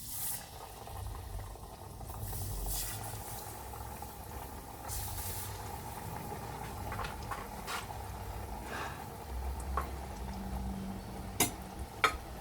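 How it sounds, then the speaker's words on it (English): Falafels frying in preheated oil, a soft steady bubbling sizzle heard close up, with no one talking. "I have now preheated the oil so I can fry my falafels now."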